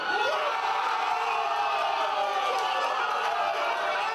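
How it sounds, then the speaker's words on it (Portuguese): A football crowd in a bar roars and cheers wildly after Santos equalise against Vasco in the Copa do Brasil, a dense, sustained wall of shouting and whooping. "E quando o Santos empatou, a torcida foi ao delírio."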